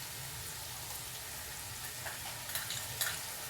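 Roasted onion goes into a simmering rawas fish curry, giving a steady quiet sizzle with a few soft stirring clicks near the end, no talking.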